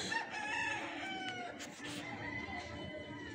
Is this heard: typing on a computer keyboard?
no